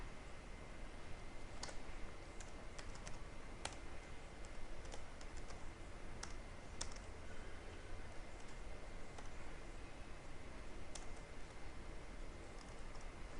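Someone types code on a computer keyboard, a quiet, close stream of soft key clicks with brief pauses and a few sharper taps, no voices heard.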